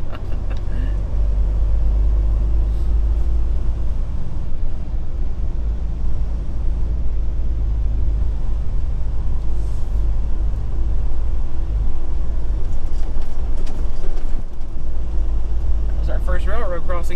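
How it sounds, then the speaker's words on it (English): An automatic truck's engine drones and rumbles steadily for a long stretch, with bumps and rattles as it rolls over a railroad crossing, heard from inside the cab. "That was our first railroad crossing in an automatic truck"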